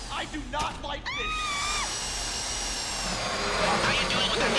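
A power drill whirs steadily during a heist in a video game, a high, sustained whine that shifts pitch slightly, preceded by a brief burst of voices and pitched electronic tones, with voices faintly present.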